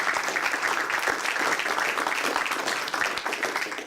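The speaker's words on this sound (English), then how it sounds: "Let's give all these folks a great round of applause for making today happen." A crowd at the Louisiana Digital Media Center at LSU applauds steadily, many hands clapping in a dense, even wash that holds at a constant level throughout.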